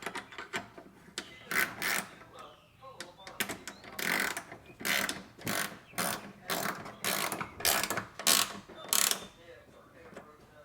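Ratchet tightening a 10mm bolt while fiberglass side skirts are fitted to a Nissan 720 pickup; close, crisp bursts of rapid clicking, roughly a dozen strokes in uneven rhythm with short pauses between.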